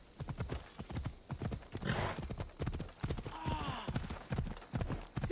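Horse in the video game Assassin's Creed Odyssey, steady rapid hoofbeats with a brief neigh, close and loud, with people talking over the galloping.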